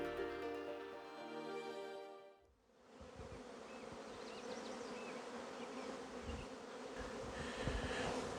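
Bees buzz steadily around hives in an apiary, a dense, continuous droning swarm close by, preceded by a short tonal sound at the start.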